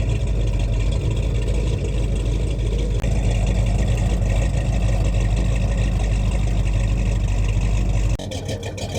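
A carbureted 318 V8 runs steadily in a 1989 Dodge D100 pickup, a loud continuous low rumble close by with one brief shift in tone near the end.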